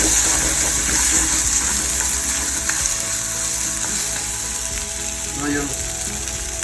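Spices, turmeric among them, sizzle steadily in a pan for homemade cheese macaroni, with a brief stir near the end.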